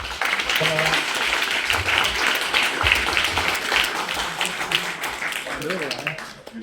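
Audience applause at a branch chair's Christmas address, a steady wash of clapping that holds for several seconds with voices mixed in and a few louder claps near the front.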